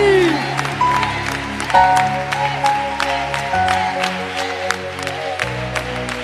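Church congregation clapping and cheering in praise during a worship service, steady applause over sustained keyboard chords and tones, loud and close throughout.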